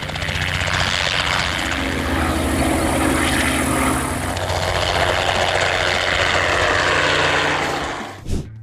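Crop-spraying aircraft fitted with an electrostatic field sprayer drones steadily with a propeller-engine roar, loud and continuous before cutting off abruptly near the end.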